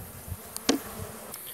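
Honey bees buzzing around a beehive during colony care, a short burst of close, sharp buzzing passes over a soft humming background.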